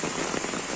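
Steady rain pattering down on an outdoor fishing spot, a dense continuous hiss of drops filling the short moment with no voices.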